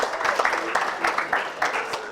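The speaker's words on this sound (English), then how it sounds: "Give them a round of applause" An audience at the IATP 2024 conference breaks into applause, steady clapping with irregular sharper claps over about two seconds, while a voice talks over it.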